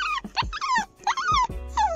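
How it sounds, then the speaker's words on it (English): A small dog yips and whines in short, high-pitched bursts, three or four rising-and-falling cries close by. "He just started barking"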